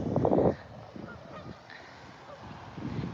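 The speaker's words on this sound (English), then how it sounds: "Those geese are pissed" Geese honking near Palm Desert: a loud burst of overlapping calls at the start, then quieter scattered honks, with another sharp call at the very end.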